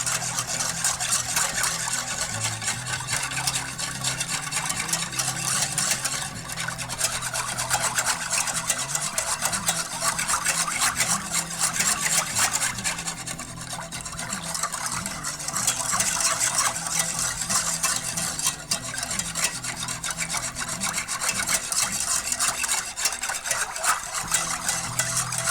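Chicken powder being stirred into instant stock in an unheated pot, a continuous rasping, rubbing scrape of the spoon going round and round, steady and moderately loud with no voices.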